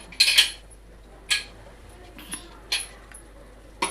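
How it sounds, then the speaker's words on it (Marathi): Several sharp metallic clinks and clatters as a lid is put on a pressure cooker, a few separate knocks spaced out over a few seconds, close by in a quiet room. "आता झाकण लावणार"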